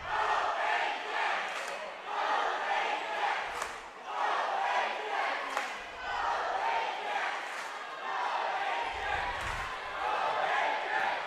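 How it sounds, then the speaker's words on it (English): Volleyball fans in a gym cheer their team on, with loud sustained crowd noise and shouting. Rising swells come through, along with a few sharp thuds and claps. "Fans getting hyped up, cheering on their team"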